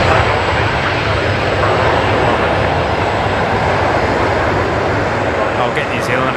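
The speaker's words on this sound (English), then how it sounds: "Jetstar 820 just touching down from Sydney there" A Jetstar airliner arriving from Sydney touches down at Brisbane Airport at night, a loud, continuous engine roar and rumble that fills the clip, heard alone without talk.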